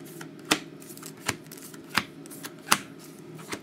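Trading cards being shuffled and dealt during a box break: soft papery rustling with several distinct flicks at steady intervals, close and fairly quiet, with no talk over it.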